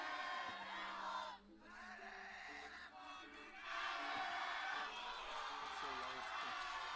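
Supporters of both teams cheer and shout for the archers at a European youth archery cup final, a dense, loud crowd roar with chanting that dips briefly and then swells again.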